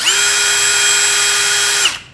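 A power drill fitted with a FAMAG 1598-758 angle head and a wood drill bit runs at a loud, steady high whine for nearly two seconds, then spins down and stops.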